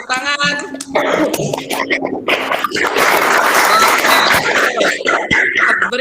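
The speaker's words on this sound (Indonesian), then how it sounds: "Tepuk tangan." Classroom applause for a student group during a lesson, scattered claps building into a brief burst, mixed with coughs and a teacher's voice at the start.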